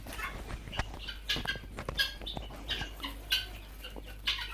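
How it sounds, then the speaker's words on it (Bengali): Quail birds on a farm of around two hundred birds, calling in short, sharp chirps and clucks that repeat irregularly, moderately near against a quiet background. "আমার খামারে বর্তমানে দুইশো কোয়েল পাখি আছে"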